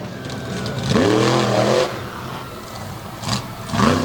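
A monster truck engine revs hard during a jump at a three-wide monster truck event at Lake Erie Speedway, surging in a loud rising roar, dropping back, then flaring again in shorter bursts amid arena noise.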